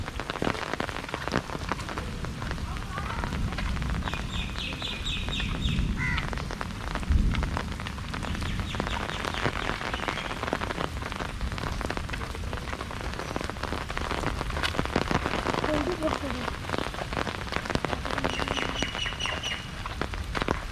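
Heavy rain pours outdoors as a dense, loud, unbroken wash on the ground, with birds chirping intermittently through it and no voices.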